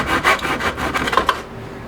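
A wooden 2x4 is beveled by hand, with a series of rough rasping, rubbing strokes in quick rhythm, close and fairly loud, fading out at the end with no talk.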